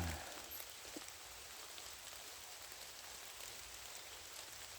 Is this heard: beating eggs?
no